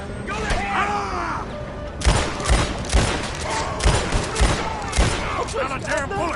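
Rapid gunfire in Red Dead Redemption 2 cracks out in a string of sharp shots at irregular intervals, mixed with in-game voices talking and shouting underneath.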